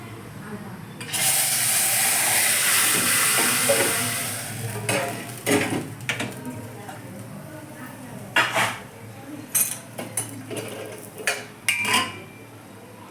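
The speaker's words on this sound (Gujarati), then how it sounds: "દાળનો વઘાર." Dal is tempered as spices hit hot oil in a home kitchen: a loud sustained sizzle bursts up and fades over several seconds, followed by repeated close clinks and scrapes of a spoon against the pot.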